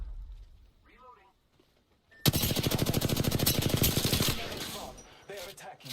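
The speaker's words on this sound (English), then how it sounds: "Opening fire on the enemy." Rapid automatic gunfire from a video game shooter opens abruptly after a quiet stretch, a dense rattling burst of evenly spaced shots lasting about two seconds, loud and close, followed by lingering in-game clatter and effects.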